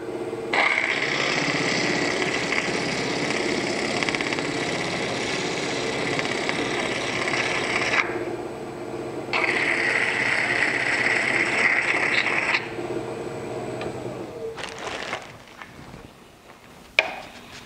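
A wood lathe spins a turning while an antler is pressed against it to burnish the surface, giving a steady, moderately loud motor hum with a high whine that briefly drops away twice, then fades near the end before a single sharp knock.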